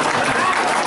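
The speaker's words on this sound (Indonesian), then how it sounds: "Kalau setuju tepuk tangan sekali lagi." A brief burst of crowd applause rings out at a national working meeting of soybean cooperatives in Surabaya, a dense wash of clapping filling the room for under a second.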